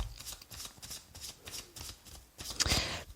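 Lenormand cards being shuffled by hand for a nine-card reading, a steady series of soft papery riffles and flutters close by, ending in a louder burst of shuffling.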